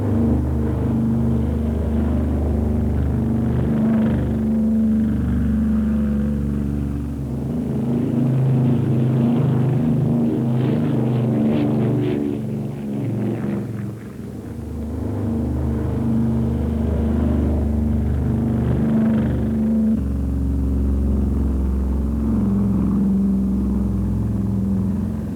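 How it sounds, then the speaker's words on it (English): B-29 Superfortress bombers thundering down a runway on takeoff, a loud sustained low engine roar with droning propeller tones that swells and fades slightly as the aircraft pass. "The giant planes hurtled down the runway right on schedule."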